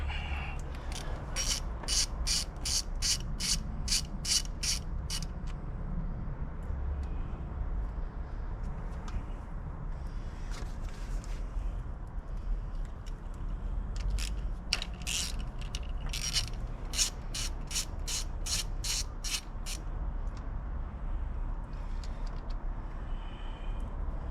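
A ratchet undoing the rocker cover bolts on a Rover 216 SLi's Honda D-series engine, quick clicking runs in several bursts over a low steady background rumble.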